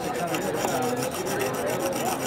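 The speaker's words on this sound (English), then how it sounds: "I'm going to draw a burr off the opposite side, which I'll feel here with my finger" A knife edge rasps against a stone on a Wicked Edge guided sharpener while a burr is drawn off the opposite side, giving a steady, close scraping texture with no talk over it.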